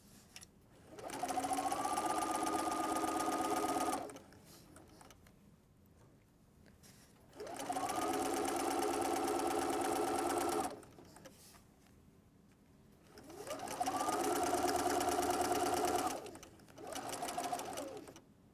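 A sewing machine stitches fabric for a cuddle throw in three steady runs of rapid, even whirring, each lasting a few seconds and separated by quiet pauses, heard close up with no talking.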